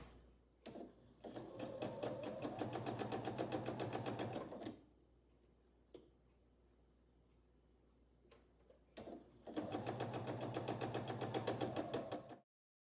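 A sewing machine stitches a scant quarter inch seam on a sawtooth star quilt block, two close bursts of rapid even needle chatter separated by a quiet pause with light clicks and fabric handling.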